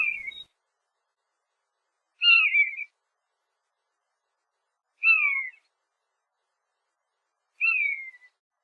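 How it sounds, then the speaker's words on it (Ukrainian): A disturbed common buzzard near its nest in a forest gives four drawn-out, descending mewing calls, evenly spaced with silence between, clear and fairly close. "ми потурбували звичайного конюка"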